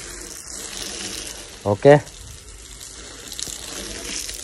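Water from a motor pump running steadily into a street with a soft continuous splashing wash, and a voice briefly speaking over it midway.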